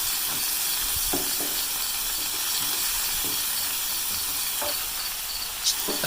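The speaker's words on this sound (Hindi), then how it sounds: "अच्छी तरह इस मसाले को भूनेंगे हम।" Masala spices frying in a pan for black chickpea curry, a steady bright sizzle and hiss throughout with a few soft stirring knocks.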